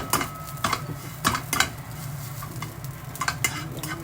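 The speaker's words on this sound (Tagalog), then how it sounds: "Lagyan natin guys ng kanin para masarap." Rice stirred with a utensil in a frying pan alongside garlic, soft scraping and clinking strokes over a steady low sizzle, close up and without speech.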